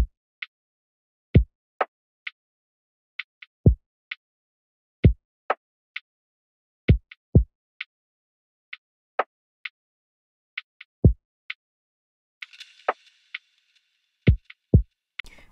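Soft, sleepy lofi drums programmed in Logic Pro X, with a sparse pattern of gentle low kicks and light ticking hits at an unhurried tempo, plus a brief textured swell near the end, quiet and with no voices.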